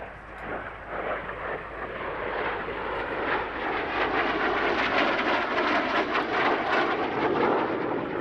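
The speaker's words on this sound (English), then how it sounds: "the sound of a Rolls-Royce Viper turbojet fills the air" A BAC Strikemaster jet with a Rolls-Royce Viper turbojet roars overhead at an airshow, a loud broad rushing jet noise that swells steadily and holds strong throughout, with no voices.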